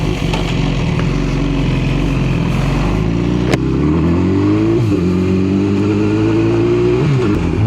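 A motorcycle rides along with a loud, close, steady engine drone that shifts pitch as it speeds up and eases off, tyres and wind underneath.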